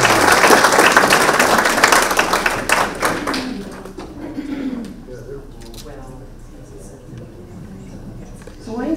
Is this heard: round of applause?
yes